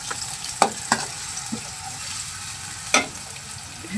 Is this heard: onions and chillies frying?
yes